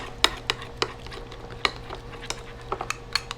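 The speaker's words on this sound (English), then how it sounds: "Stir it up real good." A spoon stirring thick homemade tomato sauce in a pot clicks and scrapes against the sides in sharp, irregular taps, close and fairly quiet.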